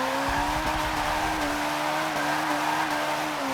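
A Subaru BRZ Fast and Furious Edition in a video game skids with a sustained tire squeal over a steady engine drone, continuous and close, no talking.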